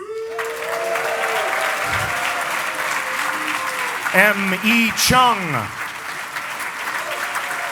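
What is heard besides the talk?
audience applause welcoming panelists on stage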